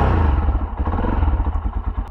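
Tekken 250 motorcycle ridden through the Podillia countryside, its engine droning steadily and close with a rumbling low end, plus rattles and knocks from the bike over the whole stretch.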